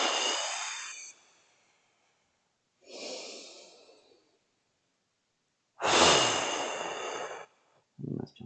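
Three strong, forceful exhalations, each a long breathy rush of air, are separated by quiet pauses during a guided relaxation breathing exercise for stress management, with a brief fourth breath starting at the end.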